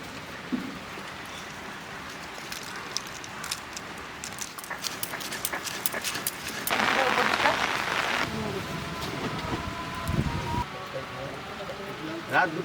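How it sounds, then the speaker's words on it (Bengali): Heavy downpour falling steadily as a continuous broadband hiss throughout, with a denser, louder burst of rain in the middle and scattered thuds and clatter nearby. "ওই তো দেখতেছি তো বৃষ্টি আসছে"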